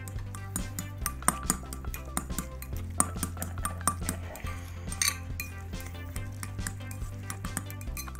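Egg and mayonnaise mixture stirred in a bowl for a sandwich filling, with a utensil clinking and scraping steadily against the bowl in a fast, continuous rhythm, close and clear.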